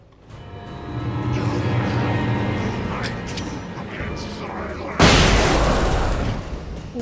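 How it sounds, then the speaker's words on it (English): Flashbang grenade going off in the Alan Wake game: a sudden loud broadband blast about five seconds in, cutting through someone talking, then a fading hiss. "It took me a moment to recognize the flashbang grenades."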